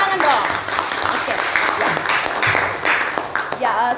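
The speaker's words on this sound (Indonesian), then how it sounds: "berikan tepuk tangan dong" Audience applause at an anti-corruption campus event, steady dense clapping throughout with occasional voices and cheers mixed in.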